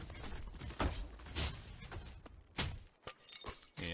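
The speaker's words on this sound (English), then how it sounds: "And wreck some pots just for good measure, right?" Pots being smashed in the video game Five: Guardians of David, with a run of sharp breaking and shattering crashes at close range, one hit after another at an uneven rhythm.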